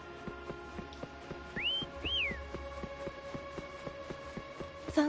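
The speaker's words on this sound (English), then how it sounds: "Try whistling." Two short rising whistled notes sound in Wuthering Waves, set over a steady ticking, pulsing game background with a soft hum.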